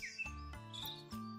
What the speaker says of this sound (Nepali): चराहरू पनि कराउँदैछ